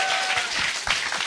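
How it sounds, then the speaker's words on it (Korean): Audience applause on a Korean talk show, a dense wash of clapping that runs steadily through the whole moment, fairly loud and close, with no voice heard over it. "여러분 힘내라 박수 한번 쳐주세요."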